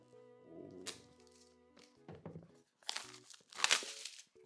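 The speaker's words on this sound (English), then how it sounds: "So let's open up the iPad Air and the new 11 inch magic keyboard." An iPad Air box is opened, with crinkling plastic, tearing wrap, a few hollow cardboard thunks and a sharp crack, close and fairly quiet in short bursts.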